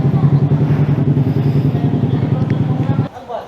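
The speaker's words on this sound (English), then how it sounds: "Don't just keep revving and revving and revving." Suzuki Smash R motorcycle fitted with an SC Project exhaust, revved in quick, pulsing bursts close by, loud and throaty, then cutting off abruptly near the end.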